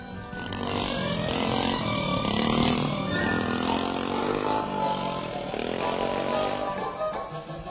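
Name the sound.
small scrambling motorcycle riding over gravel pit bumps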